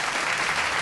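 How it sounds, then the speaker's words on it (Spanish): A brief burst of dense applause greets a guest in a news studio, a steady wash of clapping under a second long. "Con aplauso lo reciben por ahí."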